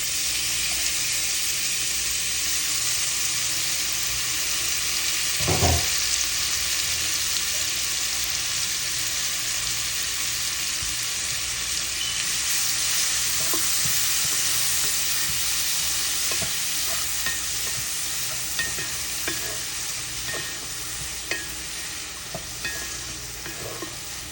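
Onion frying in oil in a pan for a prawn curry, with a steady loud sizzle throughout, broken by one clear metal scrape of stirring and a few soft clinks later.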